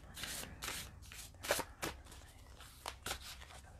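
Oracle cards being shuffled by hand during a spirit animal card reading, a quick run of papery riffles and soft slaps, close and fairly quiet, with no talking.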